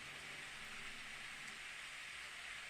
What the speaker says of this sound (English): I suddenly hear the sound of rain.